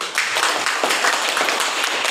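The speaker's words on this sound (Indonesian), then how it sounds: "Oke, tepuk tangan semuanya yuk." A classroom of students claps together in a brief, dense, steady burst of applause, with no voices over it.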